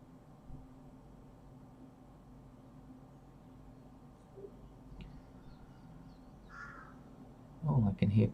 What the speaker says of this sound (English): Oh, I can hear crows calling.